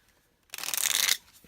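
A Curious Oracle card deck on sturdy cardstock gets one quick riffle shuffle, a brief crisp burst of papery flutter rising suddenly and cutting off after about half a second, close and clear with no voices.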